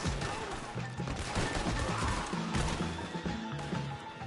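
A horse whinnies amid a loud, dense mix of gunfire, crashes and clattering hooves in the video game Red Dead Redemption 2, the noise constant throughout.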